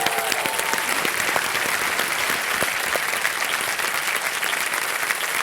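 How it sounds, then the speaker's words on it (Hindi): Loud, sustained audience applause fills a game show studio, a dense unbroken wash of clapping from a large crowd with no talk over it. "एक बार जोरदार तालियां हो जाए इनके लिए"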